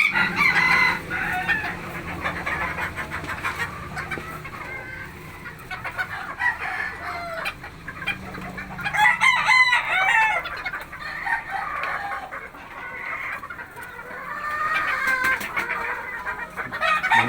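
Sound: hens clucking

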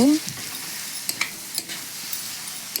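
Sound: stir-frying onions in spice paste

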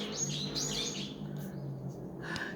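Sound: birds chirping outside on a balcony

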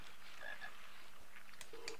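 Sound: frog croaking in Harry Potter video game

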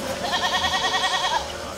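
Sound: goats bleating on a farm beside the castle

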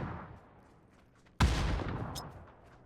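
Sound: grenade explosion in video game PUBG

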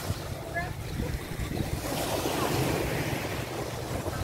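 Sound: ocean waves on the shore at Catmon

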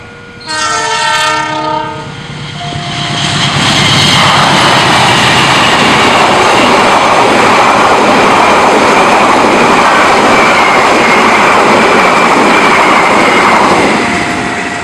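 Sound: express train passing through station

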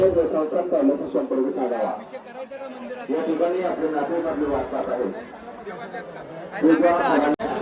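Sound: crowd of devotees chattering at Jejuri temple

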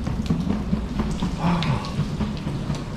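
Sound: heavy rain in Mallorca

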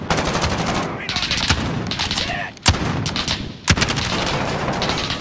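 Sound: gunfire in the Call of Duty video game

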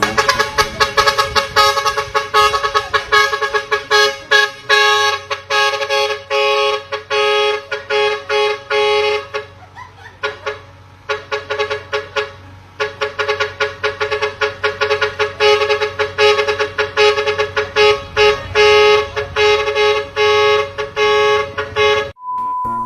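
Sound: vehicle horn honking

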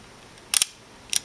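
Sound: Zeiss Ikon Ikonta camera shutter being released

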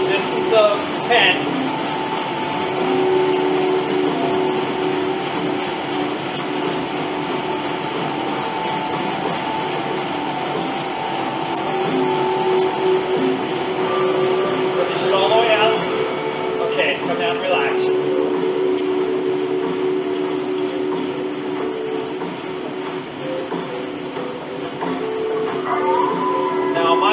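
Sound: Bowflex Max Trainer exercise machine running in sprint

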